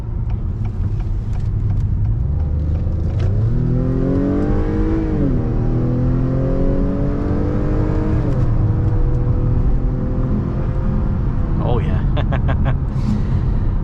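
A 2022 Acura TLX 2.0 on the highway gives a steady engine drone that climbs through rising gear pulls and then settles into a constant cruising hum, with road and wind noise throughout.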